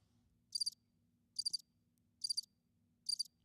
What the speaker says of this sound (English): I have crickets.